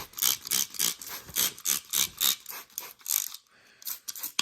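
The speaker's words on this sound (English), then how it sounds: "take the spray bottle, just water, and we're just going to mist the top" A hand spray bottle of plain water mists garden soil in a run of about a dozen short, hissing pumps, evenly spaced and close, ending with a brief pause and one last spritz.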